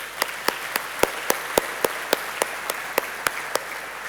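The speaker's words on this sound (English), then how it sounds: "So another round of applause," At a leadership conference, the audience gives a round of applause for the Prime Minister and the Mayor; sharp, evenly spaced claps ring out, about three per second, over a soft background hiss.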